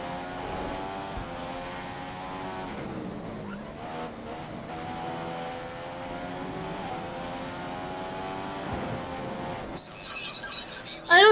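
Force India Formula 1 car racing in the F1 2015 video game, a continuous high engine whine rising and falling through gear shifts, with a burst of tire squeal near the end. Someone talks over it.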